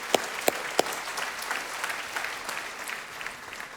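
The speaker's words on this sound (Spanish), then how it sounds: "¿Por qué no aplaudimos todos juntos?" A church congregation claps together in a sustained, even round of applause, opening with a few sharp individual claps, fairly distant and moderately loud with no talk over it.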